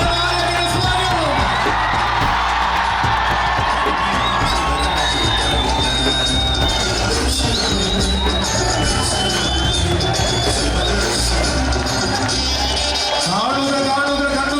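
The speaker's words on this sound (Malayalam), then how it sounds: "കാതു കൂർപ്പിച്ചുകൊണ്ട് ഈ ആരവം കേൾക്കുക കാതുകളെ" A dense, loud crowd roars, whoops and yells at a temple elephant procession at Thirunakkara, Kottayam, with shrill cries and babble layered over a constant din throughout.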